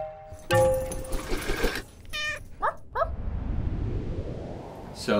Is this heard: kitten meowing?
yes